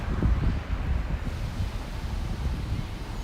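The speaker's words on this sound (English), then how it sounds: "Just in time for our little walk up Broadway here to a very windy Brooklyn Bridge." Strong wind buffets the microphone on the very windy Brooklyn Bridge in New York City, a steady low rumbling roar that swells and gusts throughout with no talking.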